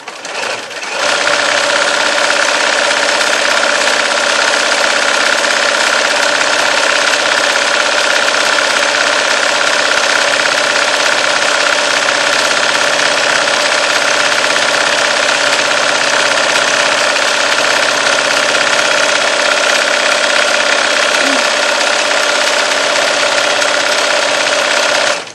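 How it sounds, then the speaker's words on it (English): A sewing machine stitching a fabric market bag runs loud and continuous at close range, a steady mechanical hum and rapid stitching drone with no break. "I'm just going to turn around like this and continue stitching"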